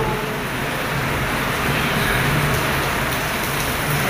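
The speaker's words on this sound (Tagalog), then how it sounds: "Naghihintay ng tila ng ulan." Heavy rain pours during a thunderstorm in a steady, dense hiss that stays loud and even throughout, with a faint low hum underneath and no voices.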